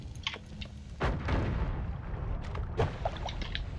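A bomb goes off in Noita, the pixel-physics game. A loud, close blast lands about a second in, trailing into a rumbling, crackling wash of debris, and a second sharper burst sounds near the end.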